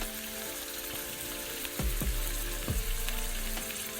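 Egg-coated potato kababs fry in hot oil with a dense, even crackling hiss. A few dull knocks mid-way stand out against the constant sizzle, heard near and alone.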